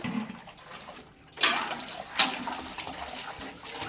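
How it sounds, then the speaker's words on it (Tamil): Water splashes and runs while dishes and metal vessels are rinsed, loud bursts of pouring and sloshing rising and falling over a low background. "பாருங்கள், பாத்திரத்தில் எல்லாமே கழுவியாச்சுங்க"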